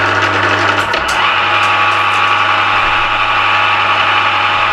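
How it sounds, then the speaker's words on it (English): An Emco Maximat V10-P lathe motor running steadily at speed in a workshop: a loud, constant mechanical hum and whine with a brief rising tone shift early on, no speech. "At the moment, that's running at 240 revs."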